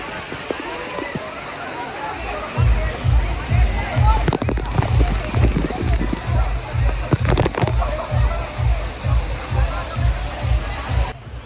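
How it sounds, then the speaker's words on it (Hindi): Water splashes and sloshes in rhythmic surges under a waterfall with strong water pressure, a steady rushing wash behind it and voices talking over it. "इस वाटरफॉल में थोड़ा पानी का प्रेशर ज़्यादा था"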